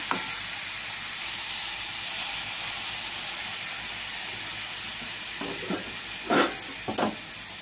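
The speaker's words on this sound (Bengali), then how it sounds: "আমি অল্প করে একটু জল দিয়ে ঢাকা দিয়ে দেবো সিমে করে" Taro simmers in a little water in a covered pan, giving a steady soft hiss of steam and bubbling, with a few brief clinks of the lid or spoon near the end.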